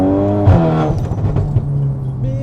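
A Volkswagen Golf 8R with about 500 hp accelerates, its engine note climbing in pitch under a brief burst of throttle, heard loud and close from inside the car.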